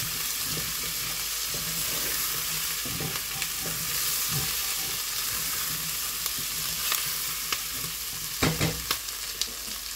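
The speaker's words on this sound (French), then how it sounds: "Et là, je mets les aubergines coupées en gros morceaux" Potato and eggplant chunks fry in a pan for a summer vegetable curry, a steady close sizzle broken by scraping and knocking as the pieces are stirred, with no talking.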